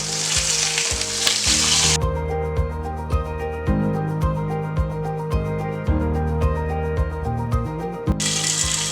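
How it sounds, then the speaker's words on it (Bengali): Fish frying in hot oil in a Bengali home kitchen after being flipped, with a dense continuous sizzle and crackle, close and fairly loud, broken by regular sharp ticking pops and clinks. "মাছটা এবার আমি 1 পিঠ উল্টে দেবো।"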